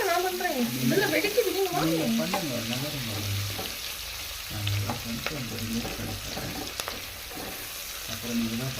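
Pakoda pieces deep-frying to golden in hot oil, made for chicken biryani, with a steady bubbling sizzle running throughout while a voice talks over it.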